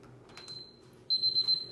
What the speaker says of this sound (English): now our second timer for our second 10 minutes is up